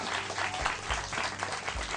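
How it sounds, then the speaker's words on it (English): An audience at a phone sales presentation breaks into short applause, a brief burst of dense clapping with low thumps mixed in. "give him a round of applause"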